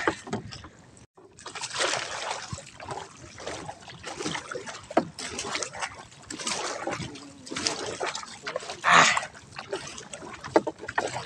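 Water sloshes and trickles against a small fishing boat as it moves on calm water, with irregular splashes and knocks, fairly close and steady throughout.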